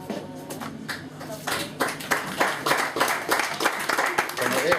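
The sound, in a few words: wedding guests applauding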